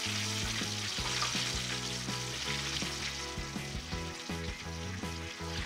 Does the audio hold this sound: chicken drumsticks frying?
yes